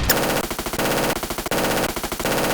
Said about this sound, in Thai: หนึ่งนาทีอ่ะยิงกระสุนเล่นๆแล้วกัน